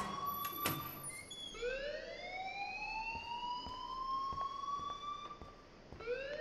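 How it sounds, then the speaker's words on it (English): A looping electronic alarm rings in the Life is Strange video game, rising whooping tones repeating steadily over several seconds at moderate volume with faint background sounds. "Please turn off that alarm since that's your job."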